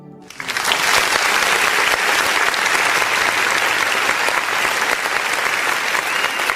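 Applause from a church congregation at an online worship service, dense steady clapping that starts abruptly and holds loud and sustained throughout.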